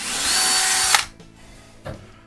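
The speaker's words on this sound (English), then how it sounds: "I'm gonna go ahead and drill a hole for the anchor." A power drill bores a hole for a wall anchor while installing wire shelving. It whines loudly for about a second and then cuts off, followed by a single faint knock.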